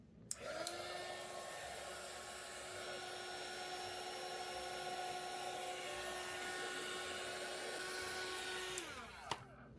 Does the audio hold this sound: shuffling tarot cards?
no